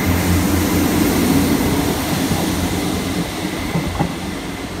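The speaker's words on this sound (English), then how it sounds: "We got this one departing as well." A Southwestern Railway train departs Southampton Central station on the South Western Main Line, a steady close rumble of diesel engine and wheels with faint clickety-clack, fading slightly as it pulls away.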